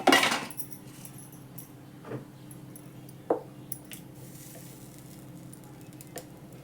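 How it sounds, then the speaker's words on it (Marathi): Dosa batter hits a hot griddle with a sharp initial sizzle that fades into a faint steady hiss, broken by a few soft clinks and scrapes of a utensil. "तवा तापलाय बघा. डोसे घालायला घेते मी."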